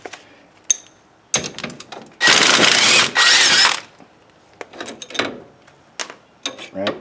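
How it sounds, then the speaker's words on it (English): Wrench work on a 2022 CF Moto 800 ATV shock absorber bolt: a series of clicking ratchet bursts with two long continuous ratcheting runs in the middle, along with metallic clatter, close and loud. "We're gonna take the shock off and this brake hose mounting thing. So it's just this bolt."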